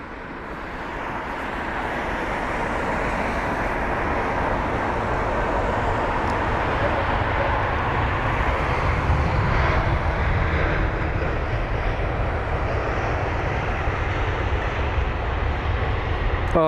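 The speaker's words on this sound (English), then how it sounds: "That's the A220, the supposed Wookiee machine" An Airbus A220 airliner arrives on runway 27 right at London Heathrow, a steady, loud, broadband engine roar that swells in the first couple of seconds and then holds as a continuous rushing drone.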